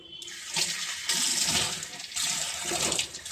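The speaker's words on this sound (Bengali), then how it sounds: "এবার এইটাকে ভালো করে আমি ধুয়ে নেব আমি কলের কাছে চলে এসেছি" Water gushes from a tap as something is rinsed under it, a close, steady splashing stream that surges and eases in waves.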